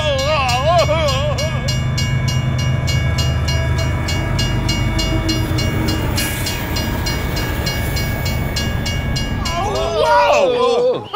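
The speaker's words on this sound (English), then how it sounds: "I'm pretty sure this time it's a train coming." A train draws near, its steady loud rumble and clatter filling the scene while horn-like tones rise and fall at the start and swell again at the end, with voices present over it.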